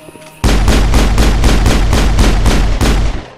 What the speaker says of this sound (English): you can just run around shooting everyone on the Citadel